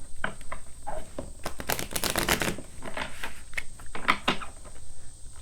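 Romance angel oracle cards being shuffled by hand, a run of crisp riffling and flicking bursts, densest in the middle, over a faint steady background hiss.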